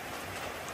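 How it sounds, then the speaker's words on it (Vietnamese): Heavy rain pouring down on a remote mountainside home, a dense steady hiss of downpour at moderate level with no break. "Mưa to này"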